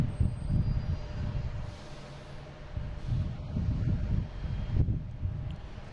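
An Etihad Boeing 787 lined up at Boston Logan for Abu Dhabi gives a faint, distant low engine rumble that swells and fades, mixed with gusty wind buffeting the microphone.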